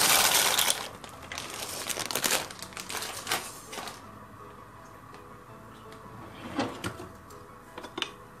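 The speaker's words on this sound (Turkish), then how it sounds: "Makarnalarımızı kaynamakta olan tuz içine döküyoruz" Dry pasta poured into a pot of boiling salted water in a home kitchen, a dense rattling clatter at first, then scattered clicks and taps over a low bubbling hiss.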